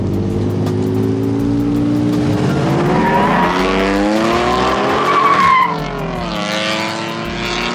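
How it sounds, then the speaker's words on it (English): A truck launches hard from a stoplight in a street race, engine revving loudly with rising pitch and tires squealing as it accelerates, close and sustained, with no talk. "He wants to race the truck. Come here. Yeah, Bob. Remember, you ready? See the light, you take off"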